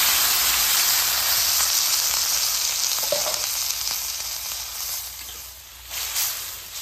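Bean and potato curry sizzles steadily in a pan, a continuous bright frying hiss with a faint stir or clink partway through, no talking.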